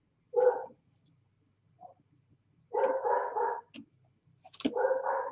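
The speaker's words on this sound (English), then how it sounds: "You can hear the dog." A German Shepherd mix dog barks in three separate bouts of short, fairly loud barks, with quiet gaps between them and no one talking.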